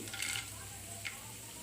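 Spices frying in a pan for tomato rasam, with black pepper added: a faint, steady sizzle under a few quick scraping, stirring bursts, close by and without voices.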